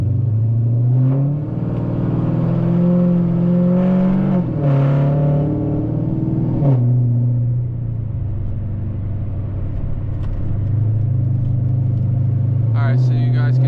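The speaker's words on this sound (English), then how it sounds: "I will see if I can get a little bit of acceleration off the light" Dodge Challenger SRT8 with an SLP Loudmouth exhaust pulling away from a light, a deep rumbling engine note climbing in pitch through gear changes, with someone talking over it.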